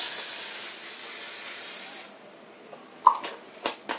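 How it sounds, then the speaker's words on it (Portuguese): Hair spray from an aerosol can hisses steadily onto curled hair for about two seconds, close and loud, then stops, leaving a few faint clicks and handling noises. "o spray nesse lado aqui"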